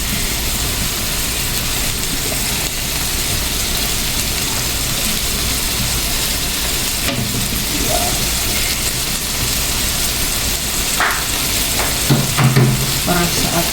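Bangus sisig frying with chili and onion, a loud, close, continuous sizzle with spatula scraping and stirring against the pan, the clatter growing busier toward the end; no one speaks.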